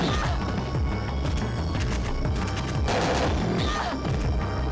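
Rifle gunfire in the game Parasite Eve 2 sounds as dense, repeated loud shots and crashing impacts over a continuous busy game soundtrack, steady and close throughout.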